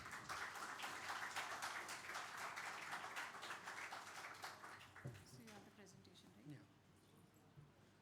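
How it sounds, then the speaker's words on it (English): Audience at a startup seminar giving a brief round of applause to welcome a speaker, dense clapping fading quickly, then a voice begins speaking over the dying claps. "with a big round of applause."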